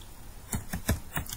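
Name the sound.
typing a command on a computer keyboard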